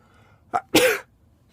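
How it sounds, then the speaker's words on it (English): A single close, sharp human sneeze with a brief intake just before it, loud against an otherwise quiet room. "I think I have another sneeze going on."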